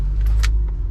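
A BMW 135i with the N54 engine, converted to an 8HP45 gearbox, pulls away with a close, steady low engine rumble that swells slightly, with no talking.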